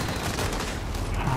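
Dense automatic gunfire from Call of Duty: Modern Warfare rattles in a continuous loud burst, with bass-heavy impacts layered under brief, indistinct game chatter.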